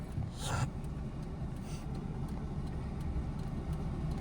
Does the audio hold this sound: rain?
no